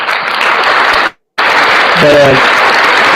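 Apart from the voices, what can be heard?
applause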